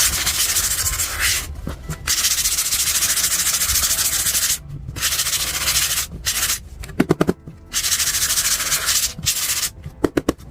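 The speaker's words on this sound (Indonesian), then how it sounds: "ini kita amplas sedikit supaya permukaannya lebih halus" Sandpaper rubbing back and forth across the top of a tube, loud and close, in long continuous scratchy strokes broken by brief pauses and a few quick short rubs near the end.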